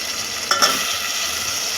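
Potatoes tipped into spices frying in hot oil for masale bhaat, a brief sharp clatter and burst of sizzle over a steady background fry, close and fairly loud, no speech.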